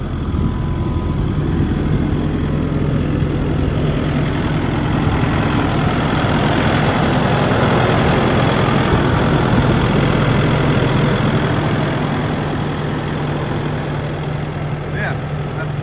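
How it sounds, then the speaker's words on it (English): A 2022 Kubota SVL65-2 skid steer diesel engine idles steadily up close, a low, even rumble with a constant hum running through the whole stretch. "let's give a quick listen to the engine here real quick and see how nice this sounds"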